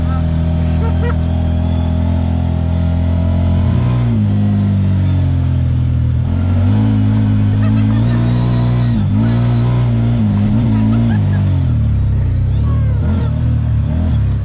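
A Z-Force 950 Sport 4 side-by-side carrying five people rides a trail, its engine droning loud and close with rising and falling revs as the throttle changes, steady throughout.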